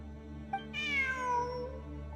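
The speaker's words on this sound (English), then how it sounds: "Look, a cat." A cat meows once in the video game Genshin Impact, a clear drawn-out mew with a falling pitch that stands alone over a steady low background hum.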